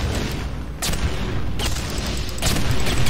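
Bombs explode in the video game Portal 2 as several heavy booms land about a second apart over a continuous loud rumble of gameplay noise.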